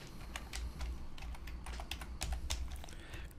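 Steady computer keyboard typing of CSS code, a continuous run of quick, moderately close key clicks over a low background hum.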